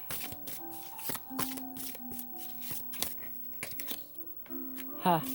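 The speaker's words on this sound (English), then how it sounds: "One more shuffle" Cards are shuffled in quick riffling bursts close to the microphone, with a few soft words spoken over the flicking.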